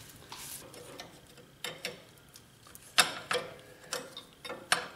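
A wrench works loose 7/8-inch fittings on a John Deere 1050 loader, with a series of close metallic ratcheting clicks and clanks arriving in short irregular bursts and no talk.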